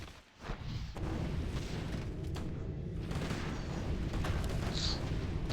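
Mortar fire in the Warcraft III game booms in a dense, continuous barrage of low blasts and rumbling, loud and unbroken after a brief quieter start.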